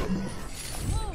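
Overwatch 2 Reinhardt Earthshatter impact, a crashing shatter burst layered over dense game effects while a player talks.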